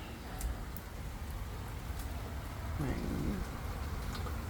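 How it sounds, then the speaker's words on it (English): Rain falls steadily outdoors near small potted plants, a soft continuous hiss with scattered droplet taps, getting a little louder toward the end. "And the rain."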